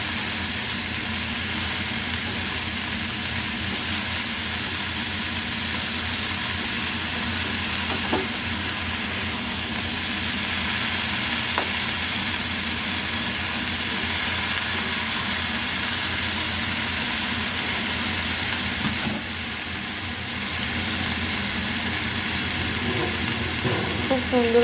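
Pumpkin greens, potatoes and yardlong beans sizzle steadily in a frying pan as they are stirred, giving a continuous close hiss with faint occasional scrapes, and no talking over it.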